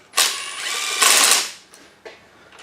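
A ratchet or power tool running down cylinder head bolts on an engine: two loud whirring bursts, then a brief fainter buzz near the end.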